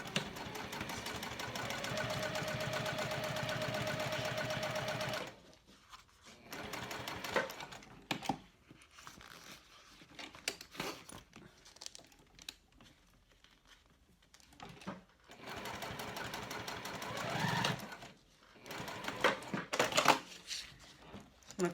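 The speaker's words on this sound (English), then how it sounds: "I'm just going to pop back over to the machine and sew this down." A home sewing machine runs for about five seconds stitching a quarter-inch seam along a zipper on a mini backpack, a steady close mechanical whir, then stops and gives way to quieter handling sounds and a brief second run.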